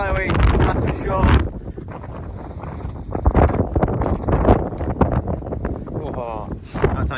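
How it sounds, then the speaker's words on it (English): Strong wind buffets the microphone on a snowy winter ridge at Striding Edge, a loud, gusting roar that rises and falls throughout, close and rough, with a voice heard speaking under it. "It's a bit blowy, that's for sure."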